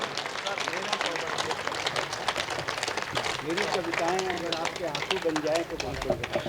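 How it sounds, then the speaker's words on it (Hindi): An audience at the closing ceremony of a Bharat Vikas Parishad event applauds to honour a guest, with sharp, close hand claps running steadily throughout under ongoing talk and a singing voice. "यार दोनों हाथ उठा के तालियां बजाकर आदरणीय नरेंद्र दाइमा साहब का सम्मान कर दें आप"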